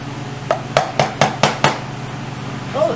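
A hammer strikes the engine cases of a Greeves Anglian motorcycle to split them apart, six sharp metallic blows in an even rhythm, each ringing briefly, close and loud with no talk.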